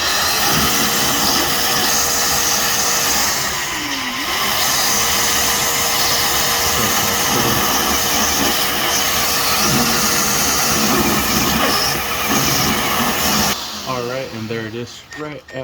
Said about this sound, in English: what you could also do is run the vacuum to help you pick up all these metal shavings